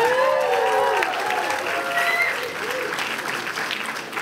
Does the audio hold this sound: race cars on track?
no